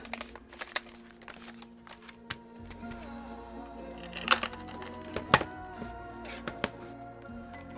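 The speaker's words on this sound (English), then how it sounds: "I'm just going to use my typewriter alphabet stamp" Sharp taps and thuds of rubber typewriter alphabet stamps pressed onto paper, irregular and scattered, with a few louder knocks among quieter handling sounds.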